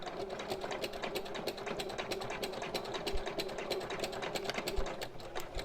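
A sewing machine stitches a bag seam with a fast, even rapid-fire needle clatter, close up and running continuously.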